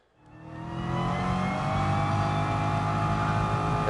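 A car in the racing game Gran Turismo Sport accelerates hard from quiet, its engine rising quickly to a loud, steady high-revving drone that holds for several seconds with no voices.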